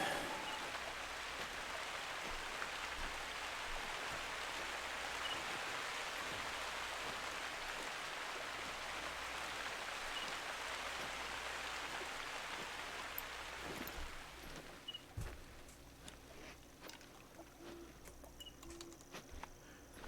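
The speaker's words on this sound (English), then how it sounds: "Keeps raining, we'll keep moving." Rain falling in the hunting game theHunter: Call of the Wild, a steady hiss of drops on surfaces that thins out after about fourteen seconds into scattered drips, with faint bird calls in the background.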